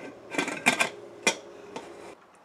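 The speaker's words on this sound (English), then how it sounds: "Now I'm going to close the lid and wait for 2 whistles." Metal lid of a pressure cooker being set and locked in place while making drumstick soup: a few sharp clanks and clatters close by in quick succession, then quiet.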